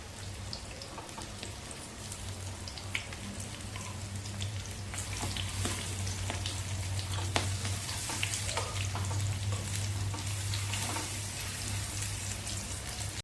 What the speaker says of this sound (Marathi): कमी तेलामध्ये अगदी झटपट परतून तयार होतात